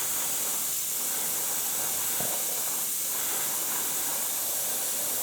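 A steady, close hiss of acrylic varnish spray, continuing evenly without a break.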